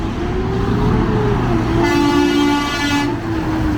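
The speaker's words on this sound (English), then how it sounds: "that truck was so loud. It has a really loud honk" A loud truck horn blares in a sustained honk over rumbling road traffic on Lawrence Avenue West in Toronto, the blast swelling midway and holding for over a second.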